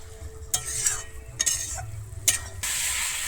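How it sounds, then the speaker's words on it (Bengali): Taro and spices sizzle in a hot pan while a utensil scrapes through them in a few sharp strokes, the frying hiss swelling louder toward the end. "কচুটাকে এক মিনিটের মতো এখানে কষাতে থাকবো"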